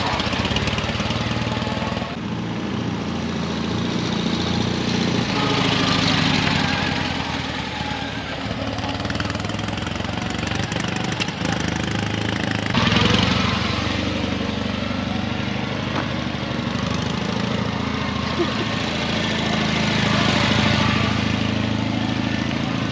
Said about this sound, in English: here's Dad's new toy. It is the BMW R12